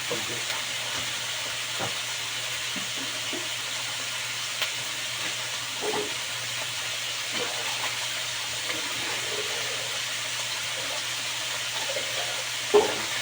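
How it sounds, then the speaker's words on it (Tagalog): Water heating in a pot on the stove while cooking pancit bato, a steady low hiss and rumble of the burner and simmering water with occasional soft knocks and clinks, close and continuous. "Kukulo akong tubig."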